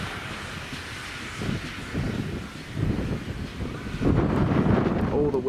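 Wind buffets an outdoor microphone at a railway centre, a low rumbling roar that swells in gusts and grows louder toward the end, with a voice talking faintly beneath.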